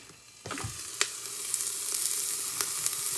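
Chopped onions sautéing in a Morphy Richards soup maker sizzle steadily once the lid comes off, a bright continuous fry broken by a few sharp clicks and light stirring scrapes, close and fairly loud with no voices.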